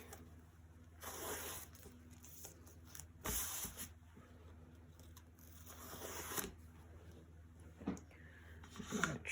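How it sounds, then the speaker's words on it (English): A crinkly plastic backing peels off a chalk transfer stencil in several short tearing strips, close and quiet, with soft handling rustles between pulls. "I'm gonna peel the backer off."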